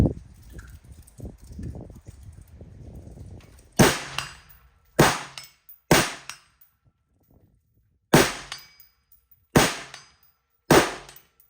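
AR-15 rifle shots ringing off steel targets at a drill-day range, six sharp, loud reports spaced about a second or two apart, each with a metallic ring, after a stretch of quieter low rumbling and handling noise.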